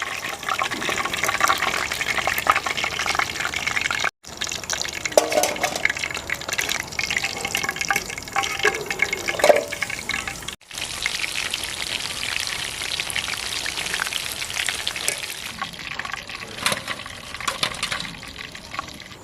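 Chicken for Chicken Manchurian deep-frying in hot oil, a dense, steady crackling sizzle that runs nearly unbroken and fairly close, with two brief cuts in the middle.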